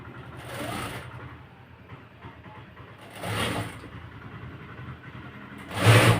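Domestic sewing machine stitching a nighty neckline, running in three short bursts of rapid mechanical whirring separated by quieter pauses, close by.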